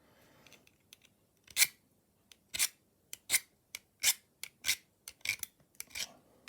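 A cheap kitchen knife edge being sharpened in short, separate scraping strokes, about a dozen sharp rasping swipes spaced irregularly, close and fairly crisp with quiet gaps between.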